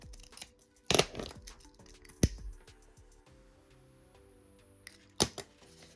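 Scissors snip diagonally through headband fabric while a no-sew knotted bow hairband is finished, giving a few sharp, close cuts with quiet pauses between them.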